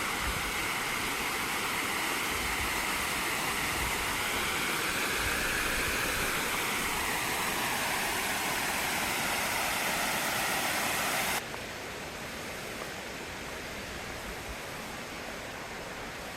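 Umbrella Falls on Mt. Hood, Oregon, sends up a steady rushing cascade of water, a broad continuous hiss that holds level throughout, then drops slightly quieter near the end.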